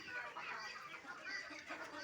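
A flock of farm chickens, shut inside a coop during flooding after a few birds fell sick, clucks in a faint, continuous, overlapping chatter that stays fairly distant throughout.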